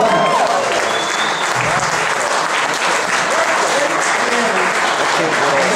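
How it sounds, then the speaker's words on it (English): Sustained audience applause at a Who fan convention in London, a dense, steady roar of clapping hands filling the whole stretch at even loudness, with no break. "just have a big round of applause for Sean and John for organizing this"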